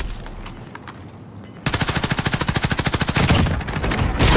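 Rapid automatic gunfire from a video game firefight, a sustained burst of evenly spaced shots that starts abruptly after a quiet moment and ends in a louder sustained roar.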